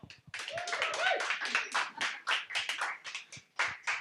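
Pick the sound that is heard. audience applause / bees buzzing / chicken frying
audience applause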